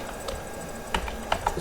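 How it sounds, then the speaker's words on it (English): Typing on a computer keyboard while entering text in a word processor: a few sparse, light key clicks, close and clear, in an uneven rhythm with no talking. "Now just you can start typing."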